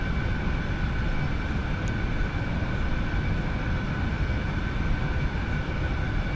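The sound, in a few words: jet engines running on AeroBask Eclipse 550, X-Plane 11 video game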